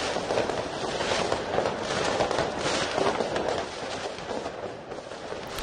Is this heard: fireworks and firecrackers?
yes